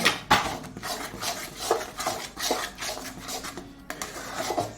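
A thick mash of taro with sugar and turmeric being stirred in a pan, producing repeated close scraping and rubbing strokes in an uneven rhythm with faint knocks against the metal.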